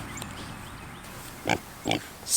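Pigs are grunting in a pen while they are being rotated through the open gaps of a food forest: two short, close grunts stand out over a steady outdoor background.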